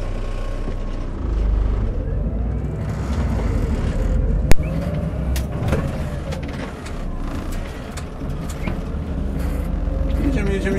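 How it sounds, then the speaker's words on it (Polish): A bus rolls along during a driving lesson, its engine rumbling low and steady and easing as it slows under braking, with an instructor talking over it and one sharp knock midway. "Jedziemy, jeszcze raz sobie przyhamujemy."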